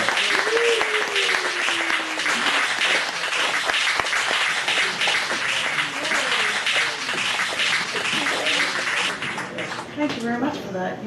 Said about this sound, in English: Let's give her a big, big round of applause.